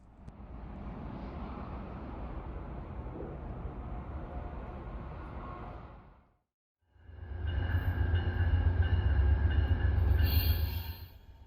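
An Amtrak passenger train arriving at Toledo station rumbles past with heavy low droning and rattling, breaks off briefly, then returns louder with deep engine roar and a faint high squeal.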